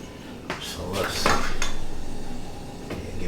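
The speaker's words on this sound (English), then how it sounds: "You want to stir it real good because you want it to combine with those flavors in there." A utensil stirs thick pecan pie filling in a pot, scraping and clinking against the metal in a few close, uneven strokes.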